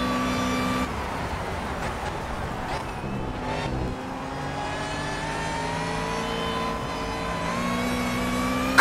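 A race car engine in Project CARS revs and accelerates, a loud continuous whine that dips briefly then climbs steadily in pitch, running alone without talk.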